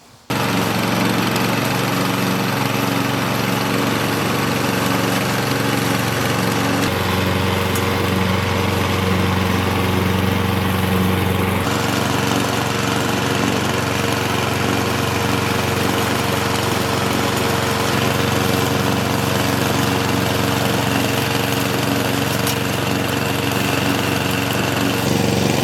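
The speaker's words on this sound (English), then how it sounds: "Let's mow some grass." A Stihl RM 453 V lawn mower runs loud and close while mowing grass, its engine droning steadily and unbroken throughout.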